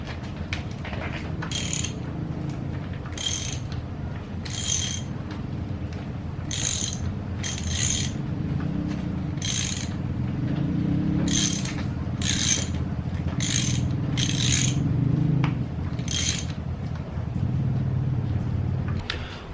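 A KLX351 engine's top end is rotated slowly by hand, and a ratchet wrench clicks in repeated bursts of quick pawl clicks over a low mechanical background, close up and without talk.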